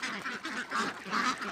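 Khaki Campbell and White Pekin ducks, kept together on a farm, let out repeated raspy quacks in irregular bursts, moderately near but fairly quiet, with no one talking.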